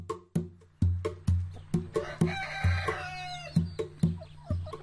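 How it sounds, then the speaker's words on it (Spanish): Hens cluck close by in a quick, repeating rhythm, with a longer drawn-out call rising in the middle. "Con el sonido del cacareo de estas peculiares gallinas, volvemos al camino"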